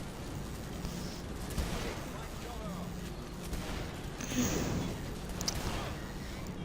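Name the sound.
gunfire in the video game Saints Row: The Third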